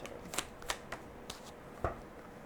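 Tarot cards being shuffled and laid out during a reading, giving a handful of sharp, close papery flicks and snaps spaced irregularly, with no talking.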